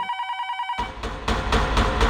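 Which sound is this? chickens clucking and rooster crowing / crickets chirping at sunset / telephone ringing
telephone ringing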